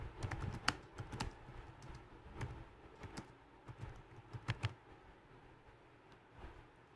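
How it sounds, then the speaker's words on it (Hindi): Steady clatter of computer keyboard keys as an HTML heading is typed, with rapid irregular clicks and a few sharper louder strikes, close and alone with no talking. "फ्रेंड्स यहाँ पे मैं टाइप कर देता हूँ एग्जाम्पल के लिए"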